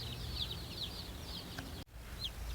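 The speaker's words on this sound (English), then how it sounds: "Alright, so we have our chicks. They are a little noisy right now." Baby chicks on their first day, just brought home, give faint high peeping chirps in short scattered bursts over a soft background hum.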